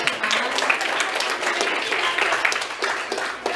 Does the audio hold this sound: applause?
yes